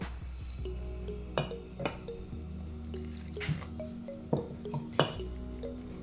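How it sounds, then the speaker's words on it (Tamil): Wet squishing and dripping as water is added bit by bit to a thick boondi batter, with occasional soft clinks against a bowl over a low steady hum. "இனி கொஞ்சம் கொஞ்சமாக தண்ணி விட்டு மிக்ஸ் பண்ண போகிறேன்."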